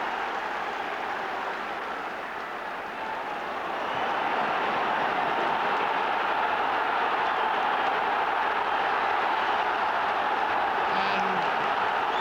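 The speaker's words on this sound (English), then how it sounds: "Judging by the noise coming from the terracings" Distant football crowd roar from stadium terraces at a 1988 Rangers versus Hibs match swells and holds steady, a broad wash of many voices cheering from far off.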